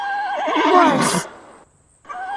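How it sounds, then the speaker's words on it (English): A farm horse gives a long, loud whinny up close that wavers as it rises and falls, then breaks off into a short silence before faint background noise returns. "horse, horse. Horse, horse, horse."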